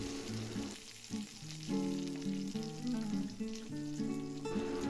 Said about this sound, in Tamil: ஆனியன் நல்லா கோல்டன் கலரில் மாற அளவுக்கு ஒரு பொன்னிறமாக ஃப்ரை பண்ணிக்கணும்.